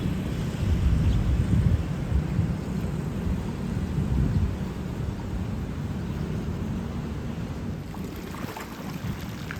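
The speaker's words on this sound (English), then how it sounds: "It's the start of the rainy season here, so that means that afternoon storms are a regular occurrence." Afternoon thunderstorm with rain at the start of the rainy season in Bangkok, heard as a steady wash of rain with low rumbling thunder that swells early on and then eases, with some wind buffeting the microphone.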